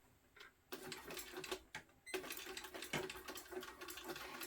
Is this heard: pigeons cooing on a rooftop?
no